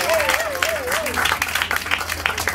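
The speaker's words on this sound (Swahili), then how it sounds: "Makofi ya kupendeza." Applause from a church congregation at an anniversary celebration, broad and fairly close with uneven bursts of clapping, while a voice calls out over it at the start.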